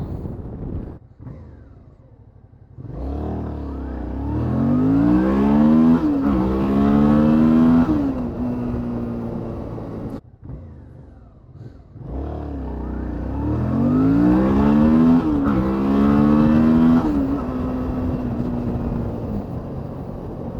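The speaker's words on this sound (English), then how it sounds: "Man, launching a bike is hard." A motorcycle launches hard off the line twice, each time rising from a low idle into a loud, climbing rev through the gears before easing off, with no talk.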